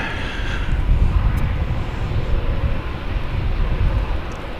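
A jet airplane departs DFW Airport, its engine roar loud and broad, with rough rumbling that stays sustained throughout and wind buffeting the microphone.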